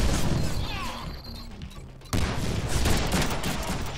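Rapid gunfire bursts from the Deadpool video game, a loud, dense volley that thins briefly and then surges again with sharp impacts and crashes, no talk over it.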